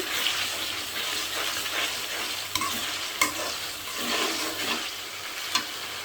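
Ginger garlic paste being stir-fried in a pan, a steady close sizzle with continuous stirring and a few sharp clicks of the spatula.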